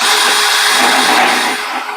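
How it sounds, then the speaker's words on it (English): A power drill whines loudly and steadily, boring a hole through a plastic rain barrel, close up and continuous, trailing off slightly at the end. "I'm going to drill these 2 holes and I'll be right back."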